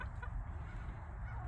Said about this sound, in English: Her and our rooster there, Clyde, are the only two we've really named